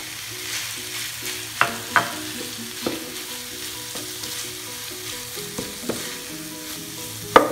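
Beef and mashed potato samosa filling stirred and mashed in a hot pan, a steady sizzle under repeated clacks and scrapes of a spoon against the pan, close up with no voices.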